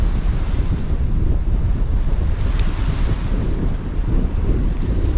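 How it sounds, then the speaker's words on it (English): Strong southwesterly wind on the UK coast near Newport while sea fishing, with a swell running: a loud, constant rumble of wind buffeting the microphone mixed with the wash of sea, steady throughout with no talk. "because of that strong southwesterly, there's a bit of a swell out there"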